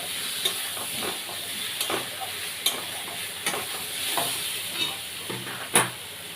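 Tomato stirred into frying spices for a fish curry, a steady soft sizzle with repeated scraping stir strokes at a slow, irregular rhythm, close by and fairly quiet.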